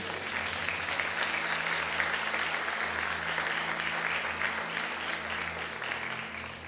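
A church congregation applauding during a sermon, a broad sustained roar of many people clapping, loud and steady throughout, with a low hum from the room's sound system underneath.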